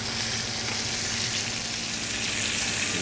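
Harris Ranch hanger steak searing in a hot pan, a loud, continuous sizzle and spatter close up with no talk.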